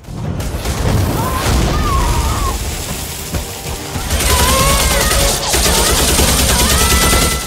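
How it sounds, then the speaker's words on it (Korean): Battle sound effect of artillery shells exploding north of Warsaw: loud, continuous booming and rolling blasts with crackling gunfire-like bursts, swelling again after a brief dip midway. "바르샤바 북쪽은 귀가 찢어질 듯한 포탄 소리,"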